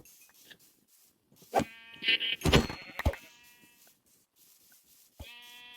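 Several bleats from Minecraft sheep, with a cluster of loud overlapping calls in the middle and a fainter, drawn-out bleat near the end, heard alone without talk.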